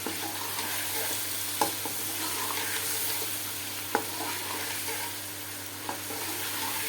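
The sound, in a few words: yogurt added to chicken degi biryani pot, stirring and sizzling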